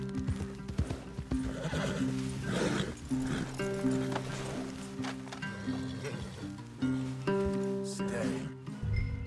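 Horses in the video game Red Dead Redemption 2 clop and whinny close by, hooves thudding in uneven bursts alongside a loud neigh, with a dog barking briefly amid the steady game score.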